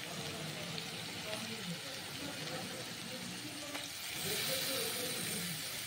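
Masala for aloo dum, a spice paste with green and dried chilies and chili powder, sizzles steadily in a pan while being stirred, a continuous close hiss with soft scraping.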